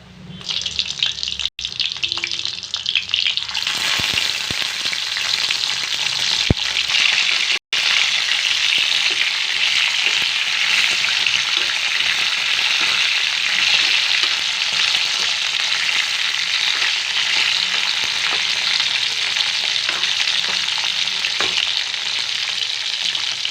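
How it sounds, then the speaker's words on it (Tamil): Onions sauté in a pan for a brinjal biryani dish, a loud, steady sizzle that runs on for over twenty seconds, with a few sharp clinks of a stirring utensil near the start and no talking. "இப்போ இதை நல்லா நம்ம வதக்கலாம்"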